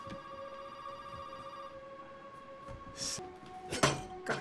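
A telephone rings in the Resident Evil 7 horror game, a steady electronic trill held over a low room hum, then brighter clinking bursts near the end as the ringing continues.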